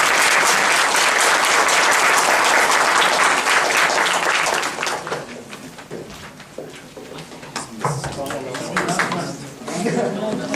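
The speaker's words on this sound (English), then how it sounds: "Please applaud." Audience applause at the close of a lecture on comparative criminal justice systems, loud dense clapping filling the first half and then thinning into scattered claps with murmuring voices.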